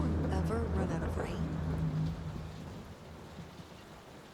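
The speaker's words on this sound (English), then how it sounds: "Will this storm ever run out of rain?" Steady rain from a storm in the video game Layers of Fear, a soft continuous wash of falling water, with someone talking over it in the first couple of seconds and the rain continuing alone afterward.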